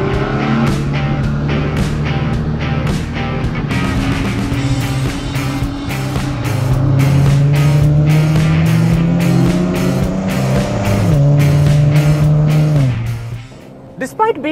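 A Ferrari GTC4 Lusso grand tourer with a 6.3-litre naturally aspirated V12 revs and pulls through rising and falling gear changes, loud and close, before the engine note drops away at the end.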